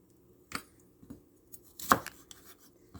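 A knife chops bitter melon for ampalaya con carne, a few separate crisp cuts striking a board at irregular intervals, quiet and close, with one sharper louder chop near the middle.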